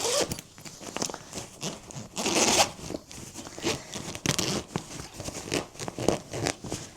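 A worn zipper on a bag is pulled open in a series of raspy, uneven scratchy strokes, close and fairly quiet, with no talking.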